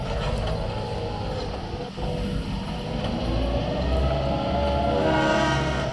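A loud, steady rumble of a train locomotive running close by, with a sustained horn blast sounding over the engine noise.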